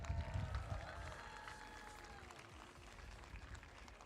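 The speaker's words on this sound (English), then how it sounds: "I'd like to thank all of our event volunteers and the staff of the USS Hornet with a loud round of applause for all their work" Faint applause from an audience at a robotics competition aboard the USS Hornet, with a dull crowd murmur and a few voices, mostly low and distant across the whole span.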